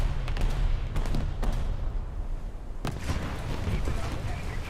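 Battleship turret guns fire in a naval warship video game, several deep booms and cracks over constant rumbling battle noise, loud and close, with someone talking over them.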